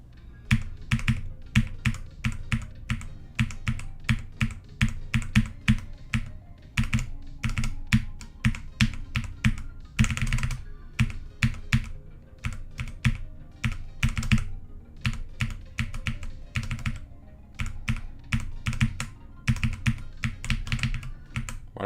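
Computer keyboard keys, including the up arrow, pressed during a game: rapid, irregular clacking taps close up, sometimes in quick bursts and sometimes spaced apart, continuing for about twenty seconds.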